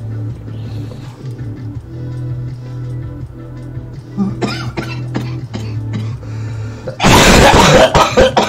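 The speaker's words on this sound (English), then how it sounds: "I'm coughing before my dabs." A person coughs in a harsh burst near the end, loud and close, after a stretch of low background hum and a few faint clicks and shuffles; the coughing comes while smoking cannabis dabs.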